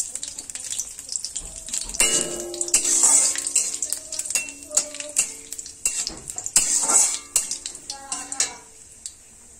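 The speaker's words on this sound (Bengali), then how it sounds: "জিরা আর এলাচ, গোলমরিচ দিয়ে দিচ্ছি।" Cumin, cardamom and black pepper hitting a pan for chire polao give a loud, continuous sizzle with clinks of a metal spoon against the pan, stirring and scraping, with no talking.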